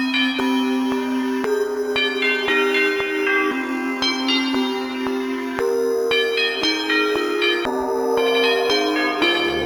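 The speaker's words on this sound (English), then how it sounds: "One last thing I'm going to add is a tubular bell as a lead." A tubular bell lead playing a trap melody in Logic 11.1, bright struck bell notes ringing in a steady sequence over a sustained backing, loud and close with no talk.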